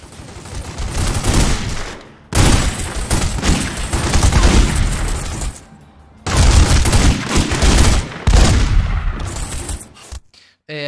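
Loud bursts of machine gun fire in The Godfather video game, several sustained volleys with short pauses between them and brief silent gaps, close and dense.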